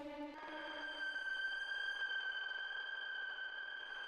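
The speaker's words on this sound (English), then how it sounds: "Oh, these got a little more distortion on there." A distorted electric guitar note rings out through a dark reverb pedal, sustaining with a smeared reverb tail, holding steady and fairly quiet for several seconds.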